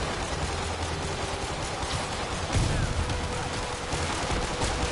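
Rapid, sustained gunfire in Marvel's Spider-Man crackles as a dense volley of shots, growing louder and heavier midway through the burst and continuing without pause to the end.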